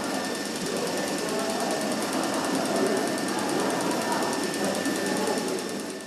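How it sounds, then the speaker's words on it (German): Old machinery in a museum runs with a steady, dense mechanical clatter and rapid rattling hammering, loud and continuous throughout with a faint hiss, with no talking. "Wenn es zischt, rattert, hämmert und dampft"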